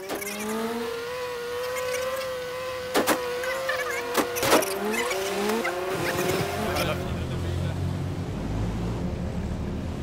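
A vehicle engine whines and shifts pitch as a car drives in the survival battle-royale game H1Z1, with a few sharp clunks, then a low rumble as it settles.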